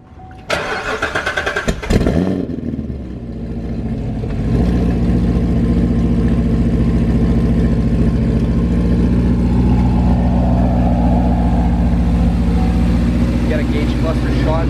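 A car fitted with Lingenfelter high-flow fuel injectors cranks briefly, fires on a true cold start and settles into a loud, steady idle that runs on alone for over ten seconds.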